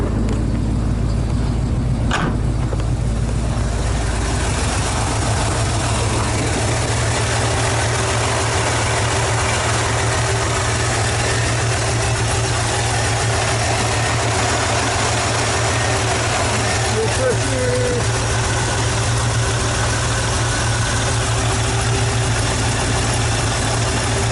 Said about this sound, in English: There she goes, she's idling now.